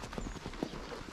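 Hooves of a mare clip-clopping at close range, a few uneven hoof strikes in a short burst over steady outdoor background noise.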